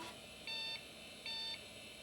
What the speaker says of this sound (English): PC speaker beeping.